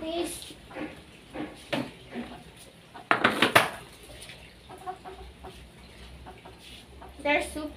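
Backyard chickens cluck and squawk at morning feeding time, scattered bursts near and fairly loud, mixed with clatter of feed containers, including a sharp rattling burst midway.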